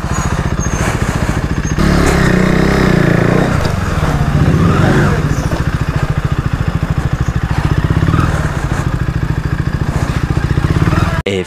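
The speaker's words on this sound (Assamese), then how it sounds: "চ' গাইজ বাইকখন উঠাই লওঁ মানে।" A motorcycle engine runs loud and close with a steady pulsing throb, revving slightly while the bike is taken onto a river ferry at Nimati Ghat.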